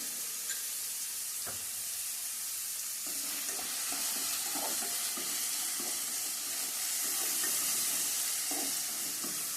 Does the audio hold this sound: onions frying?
yes